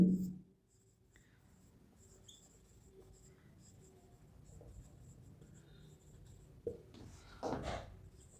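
Marker writing on a whiteboard during a macroeconomics lesson, with faint scratchy strokes, patchy and low, running through most of the stretch before a few louder bursts near the end.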